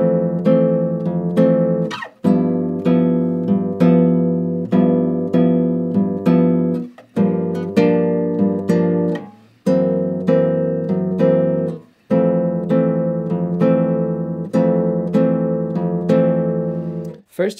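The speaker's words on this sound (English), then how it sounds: "apply a basic bossa groove to it. Up tempo sounds like this." Guitar playing an up-tempo bossa nova groove on a song, steady plucked chords with a repeating rhythmic pattern, fingers and thumb alternating, clear and close with brief pauses at chord changes.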